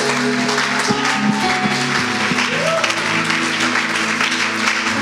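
A church congregation bursts into applause and acclamation during a French-language sermon, a steady, loud wash of clapping with cheering voices and a held musical tone beneath it.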